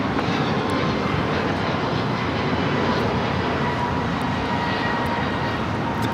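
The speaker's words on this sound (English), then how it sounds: "That was American Airlines 247 taking off to Kailua, Kona on the A321neo" An American Airlines Airbus A321neo taking off from Los Angeles airport, a dense, unbroken jet engine roar that stays loud and close for the whole stretch, with no voices over it.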